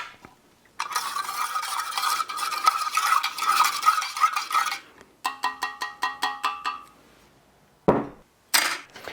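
A spoon scrapes and clinks inside a 2008 US MRE Menu 11 vegetable lasagna ration pouch, with rustling bursts, rapid tapping strokes and short pauses between.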